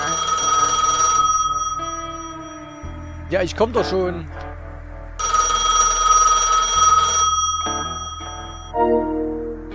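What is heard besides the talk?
telephone ringing in video game Tankstellen Simulator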